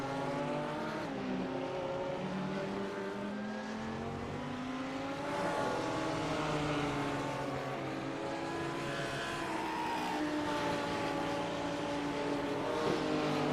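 GT3 race car engines from a sim racing endurance event at Jerez de la Frontera drone and rev continuously, with several cars overlapping as the pitch rises and falls through gear changes, moderately loud without speech.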